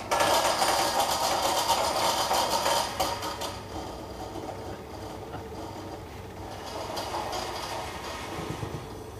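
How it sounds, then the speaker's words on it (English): A tungsten steel mill crushing rock to powder runs with a loud, dense mechanical rattle and grinding roar, heaviest for the first few seconds and then settling into a steadier, quieter churn, with no talk. "The next step is crushing the rock up in a tungsten steel mill called a teamer. This is a very noisy process"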